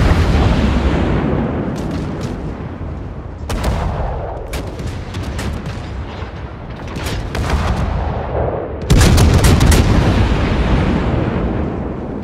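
Warship guns fire in World of Warships as heavy booming salvos over a continuous rumbling battle din, with several sharp loud blasts standing out.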